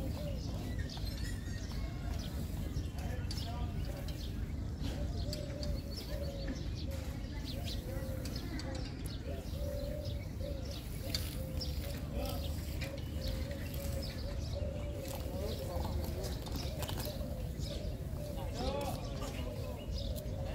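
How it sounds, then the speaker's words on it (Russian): Birds chirp and coo, pigeons or doves among them, outdoors at the Heritage Village near Qasr Al Hosn in Abu Dhabi, steady and moderately near over a constant background murmur of people and ambient noise. "как птички поют."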